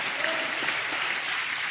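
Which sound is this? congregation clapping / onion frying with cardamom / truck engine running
congregation clapping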